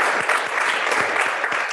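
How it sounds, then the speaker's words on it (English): Attendees at a social justice, race and equity commission meeting break into brief, loud applause, a dense patter of clapping that fills the short moment. "You can clap for that."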